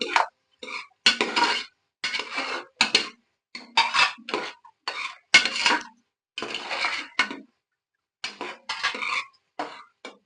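Vegetables, beans and carrots, being stirred in a pot while cooking ghee rice, heard as repeated short scraping and clinking strokes of a utensil against metal in an uneven rhythm, close and clear with no talking.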